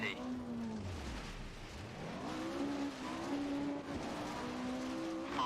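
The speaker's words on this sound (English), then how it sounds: "Started drifting." Rally car drifting in the racing game Dirt Rally 2, a steady engine roar with rising and falling revs and tire squeal as it slides, heard continuously throughout at a constant loud level.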